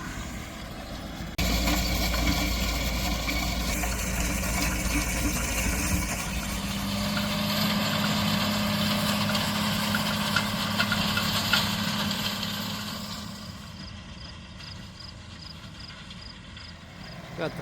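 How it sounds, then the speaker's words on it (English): A tractor pulling a seed drill across a pasture, sowing seed into small furrows, a steady mid-low engine drone close by that fades toward the end. "Cuts a small furrow and then drops the seed in there, and then a little wheel goes over it and just makes sure it has good soil to seed contact"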